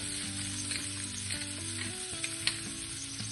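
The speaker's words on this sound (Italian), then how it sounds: "E a questo punto aggiungo i pomodori." Tomatoes hiss and sizzle in a hot pan of oil while cooking for a rice and eggplant timballo, a steady dense frying sound with small pops and stirring, close by and without talk.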